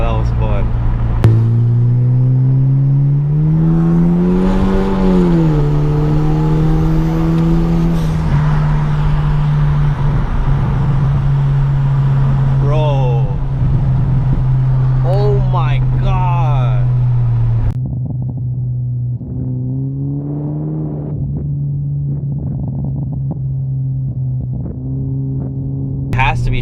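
Kia car with an aftermarket exhaust revving hard through gears, a loud droning engine note rising and falling with sharp pops between shifts, with excited voices talking over it.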